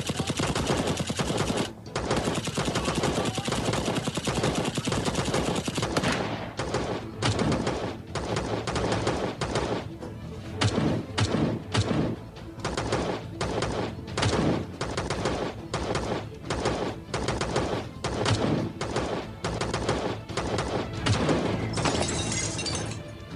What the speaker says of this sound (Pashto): له هرې خوا نه ډزې کوي.